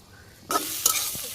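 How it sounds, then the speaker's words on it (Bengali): Jackfruit and potatoes coated in oil, salt, turmeric and chili powder are stirred in a pan, giving a sudden loud sizzle with scraping stirs in a village kitchen. "এখন কাঁঠালগুলো ভালো করে মাখিয়ে নিই"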